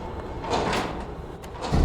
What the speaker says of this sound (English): Did the door just lock?